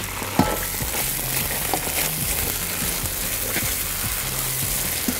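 A chili cheese fries mixture sizzles steadily in a pan while it is stirred, with scraping strokes and small clatters cutting through the close, continuous frying hiss, and no voices.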